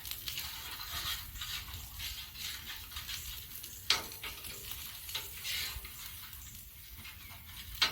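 Grease and vegetable juice sizzle and crackle on a hot Blackstone griddle outdoors while omelets cook, a steady close hiss with a sharp scrape of a spatula partway through.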